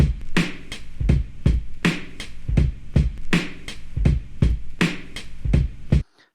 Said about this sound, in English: So then I made like a drum loop.